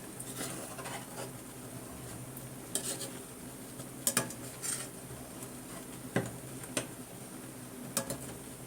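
A spoon scrapes and clinks against a pan while stirring a thick sweet mixture made with milk powder, with irregular metallic taps and steady scraping at close range and no talk.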